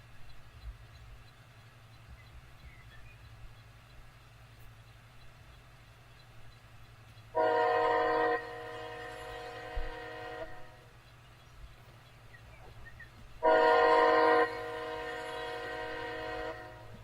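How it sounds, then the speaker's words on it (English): A train in the Run8 railroad simulator game rumbles along steadily with a low drone, its horn blaring in two long, loud blasts several seconds apart. "No, you just get to endure the sound of train."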